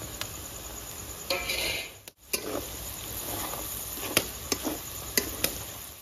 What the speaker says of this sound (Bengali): দেখুন আমার পেঁয়াজ ফ্রাই হয়ে গেছে।